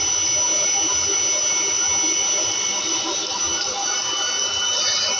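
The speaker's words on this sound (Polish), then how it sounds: "Tam od spodu ten wydech jest." A Webasto Thermo Top heater runs, heard at its exhaust beneath the vehicle as a loud, steady hissing roar with a faint high whine, unbroken throughout.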